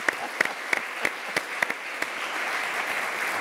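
Church audience applauding to praise God for a pastor arriving on a TV programme set, a run of sharp individual claps at first, then settling into steady, fairly soft applause.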